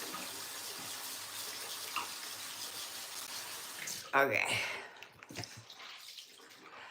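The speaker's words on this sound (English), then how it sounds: "that sound was just the water rinsing so I could get any last remnants of that saffron mask off" Steady running water from a tap rinsing a saffron face mask off, a continuous close wash that cuts off abruptly partway through, followed by a brief spoken word and quieter handling sounds.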